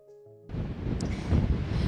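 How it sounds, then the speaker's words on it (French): Strong wind gusts at about 4200 metres altitude roar across the microphone, starting abruptly after a brief quiet moment and building into a loud, rough buffeting rumble. "C'est pour ça qu'il y a des grosses rafales"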